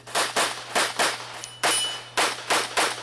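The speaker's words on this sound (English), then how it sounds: "Shot an extra shot there at the end." Pistol shots ring out at a USPSA shooting match, seven sharp, close reports in quick irregular succession with a faint steady hum underneath.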